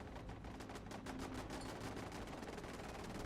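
Turrets in Fallout 76 fire in rapid, continuous bursts of gunfire, a dense rattling stream of shots that stays steady and fairly faint throughout.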